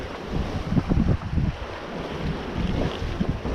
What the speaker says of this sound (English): the wind's really picked up this afternoon